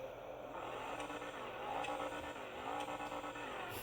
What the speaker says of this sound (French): quand on met directement sur le pot d'échappement, enfin qu'on est plus près du pot d'échappement, on entend mieux que si on est comme ça